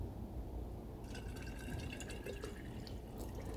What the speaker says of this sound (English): fill up the jar with rinsed legumes with fresh spring water or filtered water